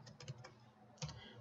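A file path is typed on a computer keyboard, giving a few quick, soft key clicks in two short bursts with a pause between them, close and quiet with no talk.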